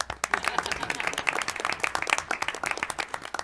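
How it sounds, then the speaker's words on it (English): Applause at a school board meeting honoring staff members, with distinct hand claps from a small group of people, close and crisp with an uneven rhythm. "I'll clap"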